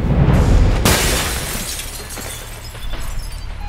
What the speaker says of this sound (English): The door's locked down, but you might be able to find a way to break the glass